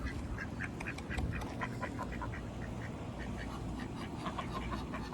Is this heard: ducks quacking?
yes